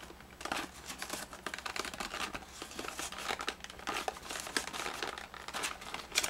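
Cardboard and plastic blister packaging of a Marvel Universe action figure card being peeled open slowly, a close, steady run of crinkling and soft tearing rips.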